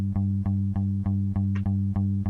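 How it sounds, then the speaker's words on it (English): A sampled Scarbee record bass guitar from a Kontakt library plays eight evenly spaced plucked notes in a steady rhythm, each with a sharp attack and a sustained low tone, clean and upfront with nothing else heard. "I'm just gonna start with the guitar bass that I'm using that you hear sometimes in the background."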